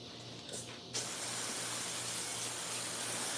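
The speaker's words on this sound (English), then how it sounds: "Well, let me spray it one time." A steady, loud hiss of water spraying from a hose during outdoor washing. It starts abruptly after a brief quieter moment and runs on without a break.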